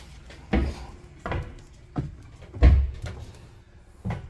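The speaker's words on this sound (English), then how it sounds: "The door latch system to lift up and turn" Door latch on a Winnebago Micro Minnie 2108FBS travel trailer being worked, a series of six close, dull clunks and knocks spaced about half a second apart, with a quiet background between them.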